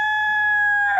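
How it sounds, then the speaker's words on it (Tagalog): A single clear rooster crow holds one steady, tonal note for about a second, close by and loud, then cuts off sharply, with a faint low hum underneath. "Kumikilaokok na mama yung manok"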